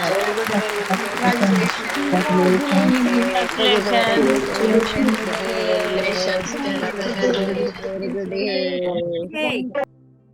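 An audience claps loudly for Shalini at a gathering, steady applause running under voices for about nine seconds before cutting off abruptly.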